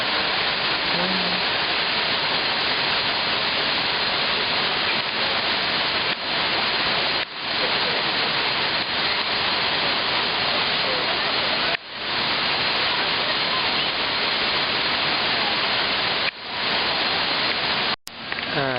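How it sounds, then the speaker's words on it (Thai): Tararak waterfall, a cascade on the way to Pha Charoen falls in Thailand, roars as a steady, loud, unbroken wash of rushing water throughout. "ที่เห็นอยู่นี่ก็คือน้ำตกทาราลักษ์นะครับผม"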